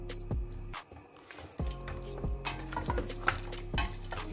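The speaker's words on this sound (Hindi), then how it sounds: "इसके साथ ही अब हम इसमें लहसुन अदरक का पेस्ट वो ऐड कर देते हैं और इसको अच्छे से मिक्स कर लेंगे" Garlic ginger paste being stirred into palak gosht in a cooking pot, faint scraping and clinking of a spoon against the metal in uneven strokes, with light sizzling beneath and no voices.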